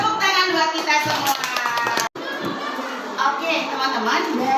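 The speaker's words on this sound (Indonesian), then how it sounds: "Tepuk tangan buat kita semua." A classroom of children applauding together, a busy wash of claps mixed with chattering young voices, close and lively, briefly cutting off before resuming.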